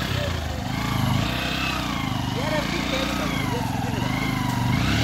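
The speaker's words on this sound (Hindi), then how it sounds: "बाइक ने ट्रैक्टर खींच दिया है" A 125cc motorcycle engine labors steadily while towing a tractor outdoors, a continuous buzzing drone with people talking over it throughout.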